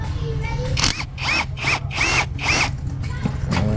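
A power drill on a Honda Accord whirs in several short bursts while working a bolt loose, close and fairly loud over outdoor background noise, with someone talking nearby.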